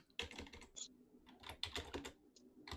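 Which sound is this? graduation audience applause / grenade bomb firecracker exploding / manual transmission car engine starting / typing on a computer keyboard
typing on a computer keyboard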